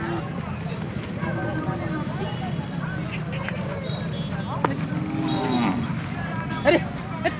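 Bulls low among the crowd at a busy rural cattle market in Kharsundi, their deep moos rising over constant chatter and shouting of traders nearby.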